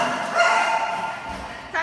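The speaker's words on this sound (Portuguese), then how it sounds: "Ai, meu Deus, esses cachorros!" Dogs at home in an apartment, playful yips and bow-wow barks packed into a short, busy burst, fairly close, with a sharper bark rising near the end.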